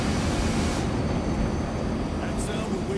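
In the video game World War Z, a train is being reversed, producing a dense, steady rumbling roar that holds at an even level throughout.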